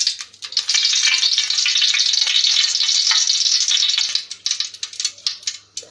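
Oil and ghee heating in a cooking pot for a simple chicken biryani, a loud, bright steady sizzle that breaks into sputtering, uneven crackles toward the end, no talk.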